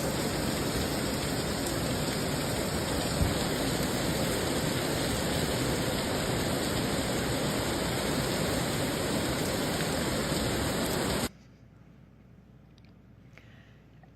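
Floodwater from Bubblegum Creek rushes at night during the Texas floods, a loud, steady roar of running water that cuts off abruptly after about eleven seconds into a faint low hiss.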